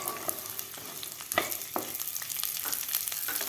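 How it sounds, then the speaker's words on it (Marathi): Fresh green peas sautéing in ghee for a pea pulao, a steady close sizzle with soft stirring scrapes and small crackles throughout, no voices. "मटर सुद्धा आपल्याला 1 मिनिटभर परतून घ्यायचे आहेत खालच्या तुपामध्ये।"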